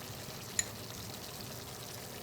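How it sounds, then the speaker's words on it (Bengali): Fresh ghee, about two teaspoons, poured into a hot cooked dish with the stove switched off. A soft, steady, faint trickle runs throughout, with one small click partway through. "এবার আমাদের- এটাতে একটু ঘি দিব"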